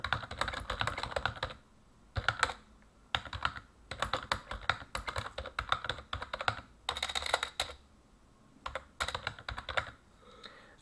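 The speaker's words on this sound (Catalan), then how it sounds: "Si premem la tecla tabulador del teclat, observem que apareix el primer nivell, el primer valor del segon nivell." Clicky typing on a computer keyboard, with keys pressed while working in MS Word. Dense runs of close keystrokes come in bursts separated by short pauses, with no talking.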